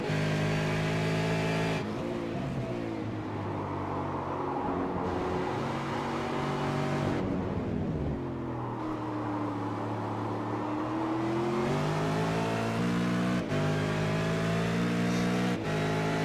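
Race cars on the Road Atlanta circuit, engines droning loudly and steadily with rising and falling pitch as cars pass and accelerate, a continuous dense roar throughout.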